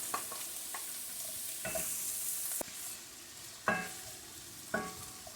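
Green peppers softening in a pan for stuffed peppers, a soft steady sizzle punctuated by several sharp utensil knocks and stirring scrapes, close and alone.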